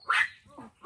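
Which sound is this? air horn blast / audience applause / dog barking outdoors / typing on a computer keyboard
dog barking outdoors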